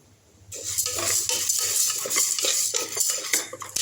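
Dry toor dal stirred with a utensil in a pan while lightly roasting, a steady close scraping and rattling of lentils against metal that runs continuously, with no talking.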